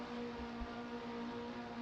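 Racing engines revving at the start of a race, a steady sustained drone with a strong tonal hum and a couple of brief low thumps, no voices.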